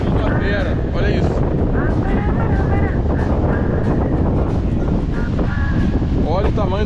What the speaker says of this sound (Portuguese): Tô botando a mão na lateral da câmera porque tá ventando pra caramba aqui.